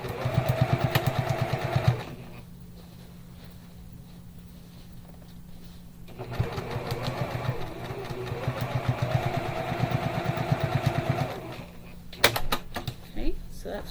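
A sewing machine runs in fast, steady bursts while stitching the seams of a fabric bag, stopping for a quiet pause midway and then running again at close range.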